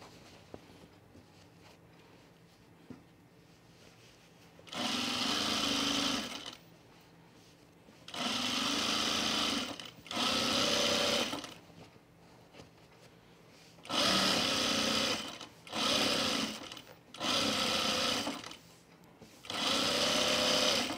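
A sewing machine top stitches the long side seam of men's chino pants in several sustained runs of rapid, steady whirring, each lasting a couple of seconds, separated by quiet pauses.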